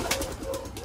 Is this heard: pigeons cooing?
yes